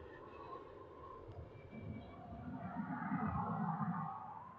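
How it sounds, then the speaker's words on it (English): An Aegean airliner departs Dublin Airport, its engines a low distant rumble that swells and grows louder as it rolls and climbs away, heard alone without talk. "I want to get this Aegean's departure."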